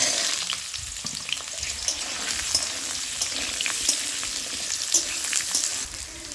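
Potatoes dropped into hot oil with dried red chilli and five-spice tempering, a moderate continuous sizzle and crackle with light stirring, no talk.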